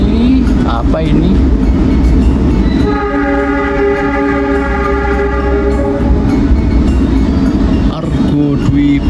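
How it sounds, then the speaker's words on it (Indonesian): The Taksaka train rumbles past at Cirebon Kejaksan station in Indonesia, its loud, steady horn sounding for a few seconds over the heavy roar and clatter of the rail cars, close by. "Kereta api Mataram masuk di jalur 3 stasiun Cirebon Kejaksan dan berjumpa dengan kereta api"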